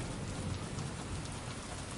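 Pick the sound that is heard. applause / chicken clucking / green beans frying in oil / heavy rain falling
heavy rain falling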